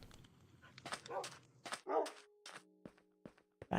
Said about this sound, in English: All right, dogs. You're getting loud again.